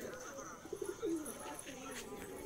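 Pigeons in an Andhra pigeon loft give soft, low cooing calls in a short burst, close by, with someone talking over them.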